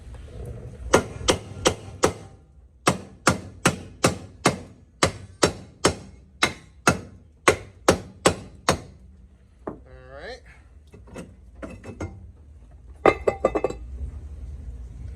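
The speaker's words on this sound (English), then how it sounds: "We're going to hammer this loose, because as you can see, it's rusted, so it's hammer time." Sharp metallic hammer blows on a rusted nut ring out in quick rhythmic bursts, about a dozen strikes, followed by a few scattered clanks and a voice briefly.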